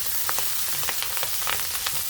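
Malabar spinach seeds frying in a pan, a soft steady sizzle with scattered small crackles and pops running throughout, close and even, no talking.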